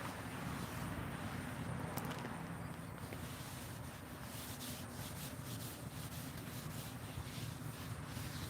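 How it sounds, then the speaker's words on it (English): Scrubbing rust off a weathered Blackstone griddle outdoors, a continuous faint rubbing scrape with an even, grinding texture and no pauses. "Still getting some dirty rust off of it."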